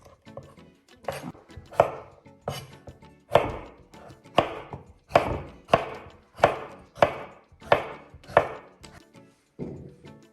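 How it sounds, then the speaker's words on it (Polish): A knife chops a cucumber steadily on a cutting board, about a dozen crisp, evenly spaced strokes with no talking. "ogórka pokroję taką metodą, jak z reguły kroją Azjaci"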